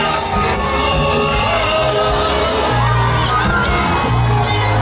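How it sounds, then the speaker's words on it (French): A crowd cheers and shouts in euphoric acclaim as the former Ivorian president's motorcade arrives at a church headquarters, with loud, dense whoops and yells sustained throughout and no clear speech. "Les hurrahs et les acclamations accompagnent le président"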